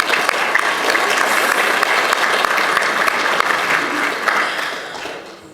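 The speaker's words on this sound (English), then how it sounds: "Let's give Bun Bun a big round of applause for being here this morning" An audience at a morning gathering gives a steady, dense round of applause that holds for about five seconds before tapering off, with no talk over it.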